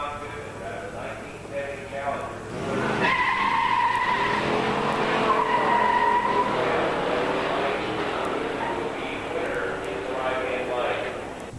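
A 1967 Chevelle SS 396 four-speed and a 1970 Challenger R/T 440 four-speed launch side by side at a drag strip, engines erupting into a loud rising roar with tire squeal, revving on under an announcer's voice.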